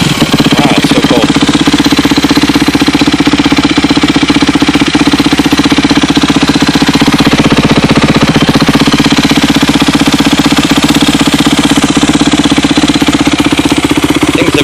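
A 2006 Yamaha YZ250F dirt bike idles after a cold start on a very cold day, its engine running with a loud, steady, continuous rumble and no talk over it.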